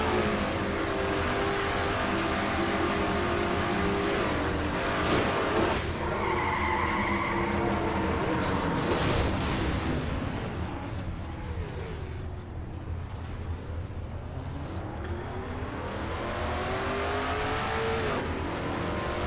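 A race car engine in a NASCAR-style stock car racing video game at Food City 500, heard from the in-car camera: a loud, continuous engine drone with rising and falling revs and tire skidding, no talk.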